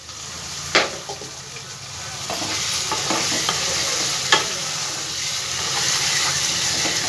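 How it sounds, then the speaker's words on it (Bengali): Diced potatoes sauté with spices in a hot pan, giving a steady soft sizzle with occasional scraping stirs and light clinks of a spoon against the pan throughout. "ভালো করে একটু মশলার সাথে আলুটা আমি কষিয়ে নেব"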